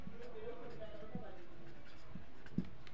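Writing on a board during a life science lesson, a handful of soft, scratchy strokes at an uneven pace, with a voice talking over them the whole time.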